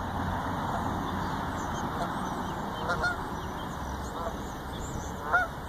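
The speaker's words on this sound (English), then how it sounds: "You know, the ducks are even upset." Ducks honking outdoors: a few faint, scattered honks over steady wide outdoor rumble and hiss, with one sharper call near the end, distant and low in the mix.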